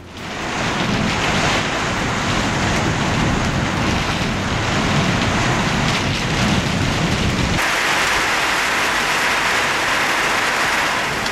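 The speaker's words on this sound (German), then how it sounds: "aber eine so starke Regenschauer hier in dieser Gegend, ich muss sagen, ich bin wirklich überrascht" Heavy rain shower pouring down in the desert, a dense, loud, unbroken roar of drops hammering surfaces close by, continuing throughout without any voices.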